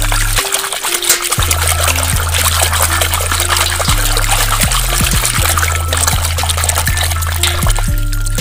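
Water pours and trickles steadily as muddy toy vehicles such as a tractor, JCB and dumper truck are washed, running continuously and loud under faint tonal background music.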